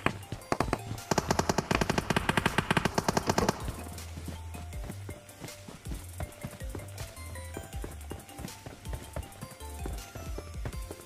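Rapid automatic gunfire in the mobile battle royale game PUBG Mobile, dense bursts of shots up close followed by more scattered firing and game sounds.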